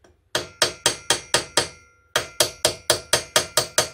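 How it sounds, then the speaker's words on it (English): Two quick runs of sharp, evenly spaced taps from a small hammer on a Singer Model 527 sewing machine, about seven in each, separated by a brief pause; close and crisp. "we'll give that a bit of a tap with a hammer"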